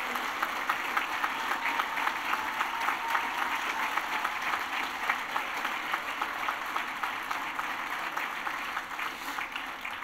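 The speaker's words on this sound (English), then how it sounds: "acknowledge his presence tonight with a generous round of applause" Sustained applause from an evening awards-ceremony audience honouring a guest, dense steady clapping filling the room at a moderate level throughout with no voices over it.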